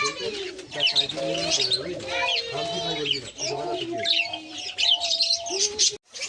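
Pet birds kept for sale, including cockatiels, black Java sparrows and diamond doves, fill the air with close, overlapping chirps, tweets and soft cooing that run continuously at moderate loudness.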